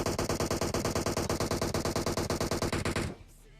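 Rapid automatic gunfire in the PUBG Mobile battle royale game, a fast, evenly spaced burst of loud shots lasting about three seconds before cutting off to quiet.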